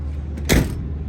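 The door of a 1954 Mercury Monterey two-door hardtop shuts with a single solid, close thud midway through a short stretch of low vehicle rumble.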